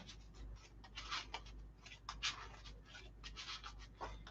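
Rapid papery scraping and flicking, like cards being shuffled close by, in quick irregular bursts with no voices.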